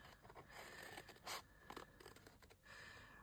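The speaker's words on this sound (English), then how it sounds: "I got these scissors." Small Poundland scissors cutting out a photo: soft, quiet snipping and scraping strokes in an irregular rhythm, close up with no talking.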